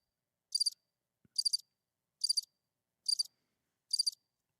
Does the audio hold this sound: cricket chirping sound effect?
yes